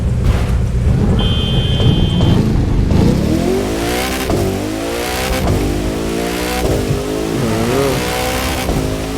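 Koenigsegg Jesko hypercar in The Crew 2 revving hard and accelerating, its engine note climbing through rising harmonics with quick gear changes, loud and continuous with no talking.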